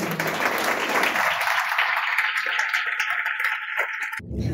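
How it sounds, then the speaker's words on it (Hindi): Audience applause breaks out to welcome a pastor at a church gathering, a dense, sustained clapping that fills the room for several seconds before cutting off abruptly at the end. "आपकी जोरदार तालियों में"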